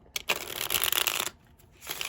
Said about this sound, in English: I'm gonna do a couple more shuffles here.